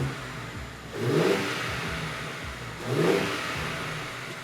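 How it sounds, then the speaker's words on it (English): A G82 BMW M4 with an Armaspeed carbon fiber intake revs twice from idle, each loud surge rising sharply then settling back to a steady idle drone, close to the listener. "we're going to give it a few revs"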